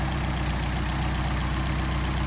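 Mercedes 190SL idling on its Solex carburetors with the throttle linkage disconnected, a steady, loud, close low rumble with an even pulsing beat and no talk.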